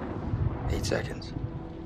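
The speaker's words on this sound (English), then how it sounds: "The storm's 8 miles away." Low rumbling thunder from a storm in the video game Man of Medan rolls faintly and steadily, with a brief brighter crackle midway.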